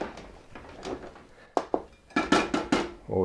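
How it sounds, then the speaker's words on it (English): Spoon scraping and knocking against a pot of polenta being stirred, a few sharp clinks and scrapes at close range, loudest in a cluster near the end. "we give the polenta a quick stir"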